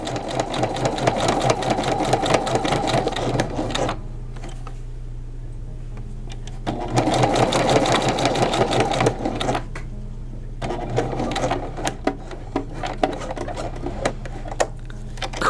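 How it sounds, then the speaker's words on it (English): A sewing machine top-stitches striped pants seams about a quarter inch in, running in fast close rhythmic bursts with two short pauses and a lighter final stretch of stitching. "Top stitching in progress. I'm going about a 1/4 inch in."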